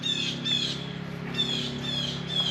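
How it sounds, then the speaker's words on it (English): Birds at a lakeside inn in Mount Dora give repeated high squawking calls roughly once a second, moderately close, over a steady low background hum. "Listen to the birds, the wildlife."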